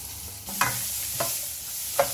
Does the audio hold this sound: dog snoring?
no